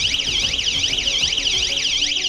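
Warning light's buzzer alarm sounds alone as a loud, steady electronic siren, its pitch sweeping up and down in repeated rising and falling waves throughout.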